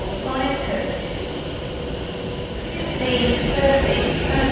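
A Transport for Wales Class 197 train rolls into a station platform, a steady, close rumble of wheels and motors that swells toward the end, with waiting passengers around.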